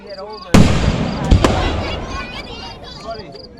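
Fireworks at the 70th annual Independence Day show in Minersville: two sharp, loud bangs, the first large and the second close behind, each trailing into a crackling, rumbling decay, with crowd voices in the background.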